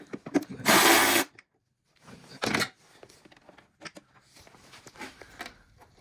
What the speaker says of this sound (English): So now I gotta take this bolt off.